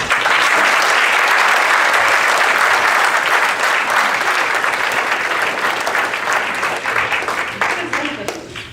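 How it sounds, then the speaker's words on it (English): An audience at a city council candidates' forum applauds in steady, dense clapping that stays loud for several seconds before thinning slightly toward the end, with some voices mixed in. "You may applaud."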